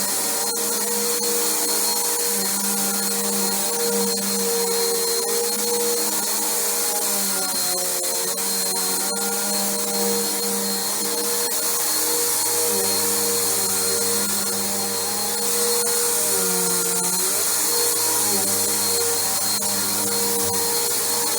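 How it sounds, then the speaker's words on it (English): Bissell Powerforce bagged vacuum cleaner running continuously at close range, a loud steady motor whine with shifting pitch as it is pushed back and forth, with no talking. "this thing's actually turned out to be a pretty nice vacuum in its own"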